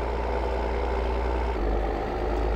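Deutz-Fahr Agrotron M tractor engine in Farming Simulator 22, a steady low idling rumble that holds loud and even throughout with no talk.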